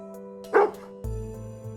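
A single dog bark, fairly close, over a steady low hum with a thump afterward.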